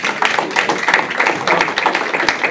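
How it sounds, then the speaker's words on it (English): An audience at a school district board meeting breaks into a round of applause, a loud, close burst of many hands clapping with sharp individual claps standing out, and no talk over it. "So, yes, round of applause for that."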